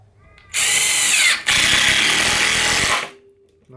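An 18V cordless impact driver, Ryobi One+ or DeWalt, hammers large screws in two loud, close bursts of rapid rattling impacts with a brief pause between them.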